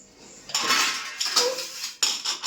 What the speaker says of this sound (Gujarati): કુકરનું ઢાંકણું કરી દઈશ બંધ